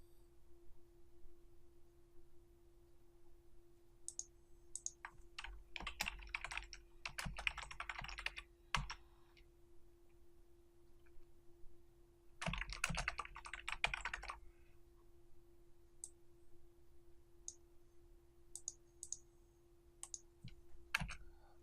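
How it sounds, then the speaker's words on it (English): Bursts of typing on a computer keyboard while entering statements into an online document, quick clustered clicks separated by pauses, close and moderately quiet over a steady low hum. "I type in my key point statement"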